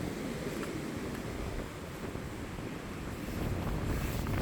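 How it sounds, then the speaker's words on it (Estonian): Wind blowing across open water around a boat, a continuous rough rush with buffeting low rumble against the microphone, fairly steady and building slightly toward the end, with no talk. "Tuul puhub juba tal."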